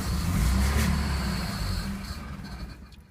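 A 1965 Citroën 2CV AZAM is started with the key: a low engine rumble turns over loudly for about two seconds, then dies away into near quiet, with no voices.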